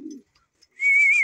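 Domestic pigeons being fed in a loft, with a soft low coo at the start followed after a pause by a steady high whistle-like tone lasting to the end; no talking.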